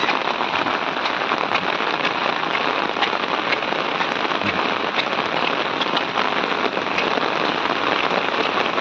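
Steady, heavy rain pattering on a surface, a dense continuous hiss of drops with no pauses, close and fairly loud throughout.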